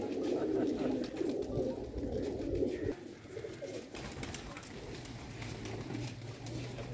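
Pigeons cooing on a rooftop nearby in low, throaty, repeated calls, steady and fairly loud for the first few seconds, then softer.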